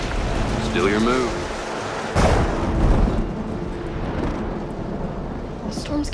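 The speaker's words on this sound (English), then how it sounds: "The storm's getting worse." A thunderstorm in a Wild West setting: a sharp crack of thunder breaks in midway and rolls off into a low rumble over a steady wash of falling rain, with a brief whistle-like tone near the start.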